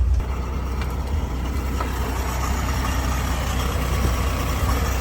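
Engine of a 1951 Dodge Power Wagon idling, running a little rough, a steady low rumble held close and even throughout with no talk over it.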